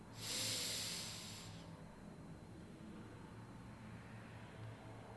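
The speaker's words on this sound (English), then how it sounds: "Another deep inhale." A single deep inhale during a guided breathing exercise, a close airy hiss lasting over a second before fading into quiet background hum.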